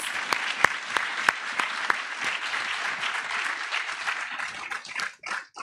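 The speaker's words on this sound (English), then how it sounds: "let's give them another round of applause" Audience applause at a Black Affinity graduation celebration, a dense steady wash of many hands clapping with a few sharp individual claps standing out, sustained and fairly loud before thinning and tapering off at the end.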